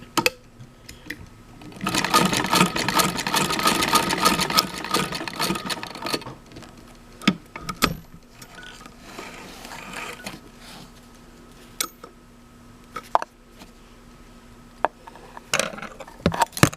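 Singer sewing machine stitching a vintage leather belt at a kitchen sewing table, a loud steady rapid whir for about four seconds followed by scattered clicks, clunks and handling noises as the work is adjusted.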